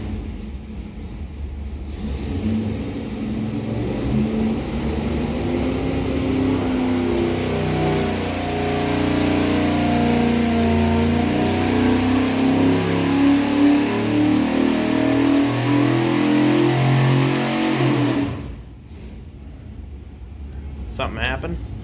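A 1970 Mopar 440 big-block with an 850 carburetor, built in 1988, roars steadily on a dyno pull from 3,500 to 5,500 rpm, loud and continuous for about sixteen seconds before cutting off abruptly.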